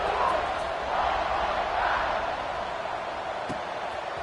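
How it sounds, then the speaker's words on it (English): A football stadium crowd roars steadily before kickoff, a broad distant wash of cheering and noise that swells and holds, with a commentator's voice mixed in. "They're set to kick it off, and this crowd now ready to get behind them."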